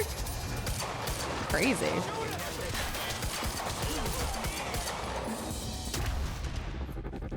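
Dense, continuous gunfire in the Quantum Break video game, a steady wall of shots and impacts lasting throughout, with someone speaking over the action.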